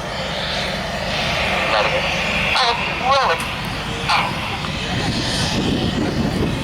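Red Arrows jets fly past in Concorde formation at an airshow, a loud, continuous engine roar with sweeping pitch shifts as the aircraft pass overhead, under an ongoing commentary voice.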